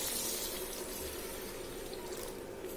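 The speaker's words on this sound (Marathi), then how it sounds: "ते बाउलमध्ये ओतून त्याच्यामध्ये पाणी ओतून 2 ते 3 वेळा छान धुवायची।" Moong dal being washed with water in a glass bowl, a soft continuous splash and trickle of water at low level, close and unaccompanied by talk.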